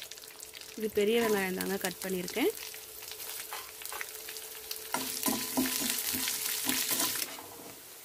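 Chana dal, urad dal and onion frying in hot oil with curry leaves and mustard seeds, a steady close sizzle and stirring clatter, while someone speaks briefly over it.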